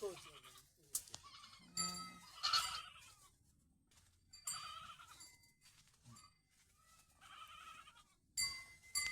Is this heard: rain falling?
no